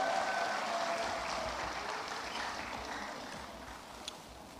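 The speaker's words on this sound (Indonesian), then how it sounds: "Tepuk tangan yang meriah buat beliau." Festive crowd applause for an Indonesian industry minister at a Golkar party event, a broad sustained clapping wash at moderate level with no voices on top, easing slightly toward the end.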